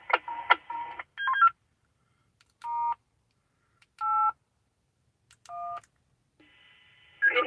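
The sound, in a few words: DTMF telephone dialing tones on GMRS radio network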